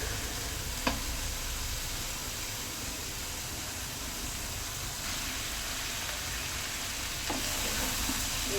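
Taro stolons already salted and fried, and then cooked with spices in a pan, sizzle and hiss steadily throughout, with a couple of brief clinks of a utensil against the pan; no one speaks.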